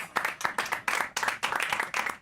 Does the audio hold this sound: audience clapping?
yes